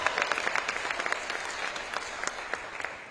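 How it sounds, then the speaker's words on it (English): An awards-gala audience at the Toledo Press Club Touchstone Awards 2022 claps for the board members, a brisk, even round of applause with distinct hand claps popping through, moderately loud and sustained. "We weren't going to clap for all of them"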